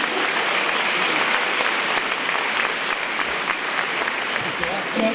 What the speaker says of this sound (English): let's give them the biggest round of applause once again before we start our dinner